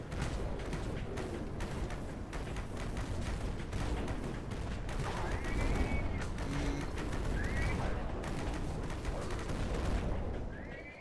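Rapid, sustained gunfire from the zombie-survival video game Dead Frontier, fired with an explosive-damage weapon in a steady dense barrage that runs loud and unbroken, with occasional bright chirps layered over the shots.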